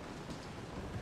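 Rainfall in Resident Evil 7 pours as a dense, continuous wash over surfaces with a low rumbling undertone, even in level and alone without any voices.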